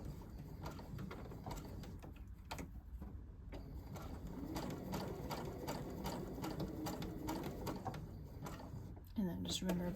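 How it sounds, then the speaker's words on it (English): A sewing machine runs a long basting stitch along the top of a jacket sleeve, a steady low whirring hum that continues through the clip, with birds cooing faintly in the background. "go ahead and give this a nice basting stitch along the top"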